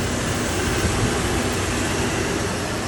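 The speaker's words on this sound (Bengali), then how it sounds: "ইঞ্জিনের সাউন্ড" A CNG-converted, automatic Toyota Hilux Surf engine idles just after being started following a long lay-up, giving a loud, steady, unbroken drone with rough broadband noise and no pauses.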